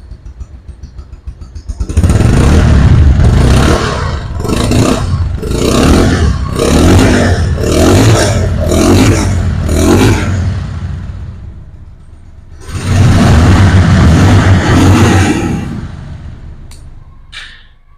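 A Bajaj Pulsar motorcycle engine revs hard and close in a rapid series of throttle blips, eases briefly, then surges in one more strong rev before dropping away.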